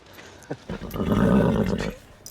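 A horse at an Indian wedding gives a loud, close whinny that rises and holds for about a second before fading, with a few faint hoof sounds around it.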